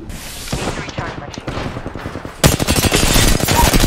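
Rapid automatic gunfire in a video game crackles in dense bursts, growing louder and heavier partway through, with a player's voice talking over the shooting.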